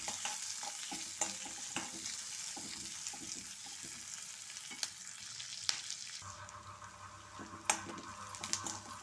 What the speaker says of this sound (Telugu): ఉల్లిపాయలు పచ్చిమిరపకాయలు వేగాక వంకాయ ముక్కలు వేసేసుకున్నాము.